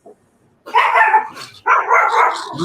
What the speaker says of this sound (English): my husband just pulled up, so my dogs just went off